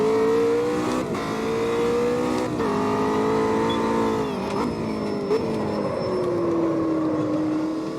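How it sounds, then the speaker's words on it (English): A McLaren 720S GT3 race car engine lapping the Nordschleife in Automobilista 2, droning loud and steady with pitch that rises, dips on brief gear shifts and falls away as it slows, heard alone without voices. "that is the GT3 McLaren around the Nordschleife"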